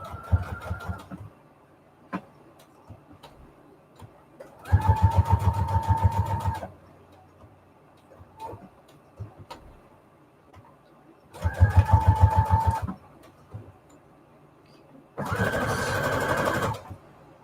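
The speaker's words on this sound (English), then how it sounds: "I'm just going to go ahead and sew around the edge. My zigzag on the longest setting." A sewing machine runs a zigzag stitch on its longest setting around fabric scraps on a junk journal tag, with three or four bursts of steady whirring and needle chatter of a few seconds each, separated by quiet pauses with small handling clicks.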